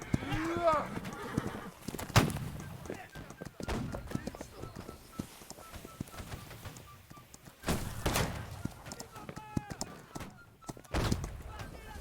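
Horse sounds with hoof clip-clops and thuds as the horse is killed in a busy Holdfast: Nations at War battle scene, mixed with gunfire-like bursts and someone talking throughout.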